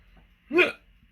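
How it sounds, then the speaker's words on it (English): A single short, sharp hiccup from an adult, close and clear against a quiet room, with no talking. "Oh, excuse me. I got the hiccups already."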